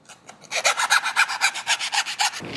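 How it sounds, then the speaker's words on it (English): A hand file chamfers the cut edge of a tube segment for a segmented overfill prevention valve, rasping in about fourteen quick, even back-and-forth strokes, close and clear with no talk. "you begin to file and chamfer your cut edges to allow for easy insertion of the new tube joiner"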